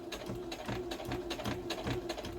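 Sewing machine stitching through a denim jacket, running in a steady mechanical rhythm of rapid needle strokes, close and continuous with short pulses throughout.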